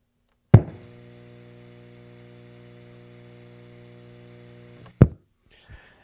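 An old guitar amp powered through the inverter of a BLUETTI Apex 300 power station gives a steady, even hum bracketed by a sharp click or knock at the start and another near the end.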